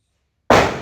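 A single firecracker goes off during Diwali celebrations in Jamnagar, a loud, close, sudden bang after silence that decays quickly into a short rumbling tail.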